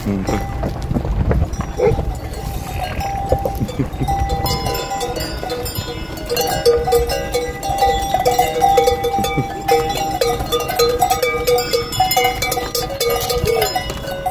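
Cowbells clank steadily on cows blocking a mountain road in the Gyimes valley, a busy metallic jangle close by with hoofbeats and scattered voices underneath.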